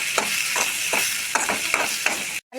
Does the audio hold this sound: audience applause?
no